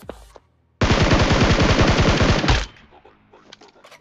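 Sustained automatic gunfire from a weapon in the mobile shooter BGMI, a loud rapid burst of evenly spaced shots lasting about two seconds, followed by scattered fainter in-game noises.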